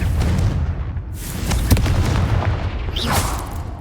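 A Confringo spell blast in the Hogwarts Legacy game, with a continuous roar of booming, rumbling explosions and sharp bursts layered together, loud and close throughout, no voice.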